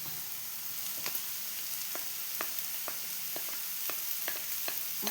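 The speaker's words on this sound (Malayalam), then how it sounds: "ഇപ്പോൾ ഉള്ളിയെല്ലാം ഞാൻ ക്യാരറ്റ് ഇട്ട് കൊടുക്കുന്നുണ്ട്" Onions and carrots frying in a pan, a steady close sizzle with a constant hiss and scattered sharp crackles and pops throughout.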